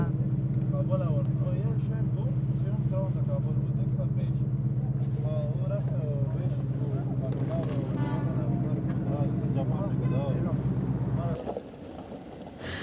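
A car engine idles steadily at a used-car market in Afghanistan, a loud continuous low drone that cuts off near the end, with a voice talking over it.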